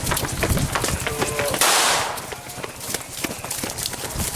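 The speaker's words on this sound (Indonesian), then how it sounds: "Tembakan peringatan berkali-kali dilakukan oleh aparat Polsek Patrang" Police officers fire repeated warning shots while a motorcycle gang tries to escape, a burst of sharp cracks over noisy outdoor commotion, with one loud blast standing out partway through.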